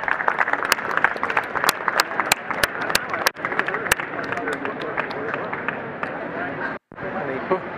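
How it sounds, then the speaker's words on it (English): An audience applauds steadily, with dense, continuous clapping and a few sharp, loud individual claps standing out near the front, plus a brief gap near the end. "Everybody give Brian a round of applause"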